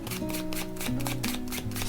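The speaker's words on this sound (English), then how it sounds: "And then as I shuffle, you just say stop." Playing cards riffling and shuffling in continuous quick bursts, close up, with a faint hum of background music underneath and no talking.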